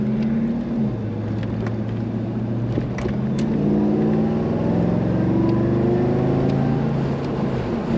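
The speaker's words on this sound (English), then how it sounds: "Plenty of acceleration power in this car." A 1940 Ford Deluxe street rod convertible's engine rumbles steadily and then revs up, pitch climbing as it accelerates, loud and close, with wind noise and no voices.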